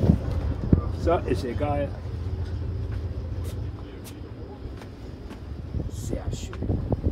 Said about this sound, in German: Oh, jetzt kommt der Wind vor das her.